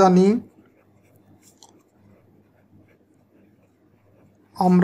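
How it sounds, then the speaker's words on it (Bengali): Pen writing a math formula on paper, a quiet close scratching between bursts of speech. "এখন আমরা যে মূল সূত্রটা জানি সেটা লিখব"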